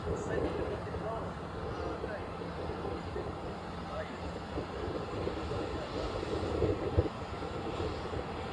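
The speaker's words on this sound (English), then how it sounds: "This United down here is heading off to LAX." A United airliner at Honolulu airport departing for LAX produces a steady, distant jet engine roar that stays broad and even, with a person talking over it.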